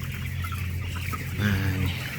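Young chicks and small chickens, 21 days old, cluck softly nearby at feeding time over a steady low mechanical hum, a few short clucks rising near the end.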